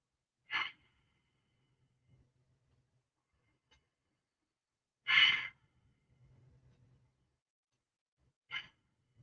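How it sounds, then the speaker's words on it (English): Deep breaths taken in a morning relaxation routine: three slow, airy exhalations spaced a few seconds apart, soft and close, with quiet pauses between them. "Come up and lower your hands and relax with the 3 deep breaths."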